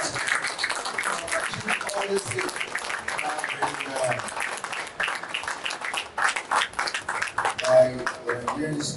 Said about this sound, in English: Please, something round of applause for her.